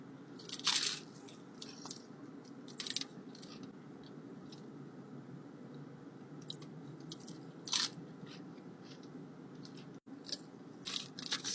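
Crisp crunching bites into a crispy Taco Casa taco, heard close and quiet as a handful of sharp crunches spaced between softer chewing, with no talk.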